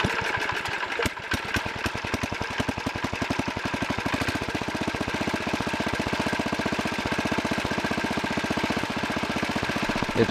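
Twin-engine Wheel Horse garden tractor with both engines running, a steady close putter with rapid regular firing pulses and a faint knock throughout.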